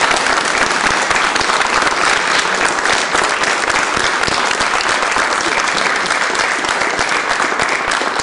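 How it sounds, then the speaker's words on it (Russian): A television studio audience bursts into loud, dense applause, a continuous roar of many clapping hands sustained evenly for over eight seconds with no speech over it. "Аплодисменты."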